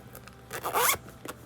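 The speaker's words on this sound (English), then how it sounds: "zip that back up" A zipper runs quickly closed on a small single-compartment bag, one short, close rasping pull with a brief tug at the end.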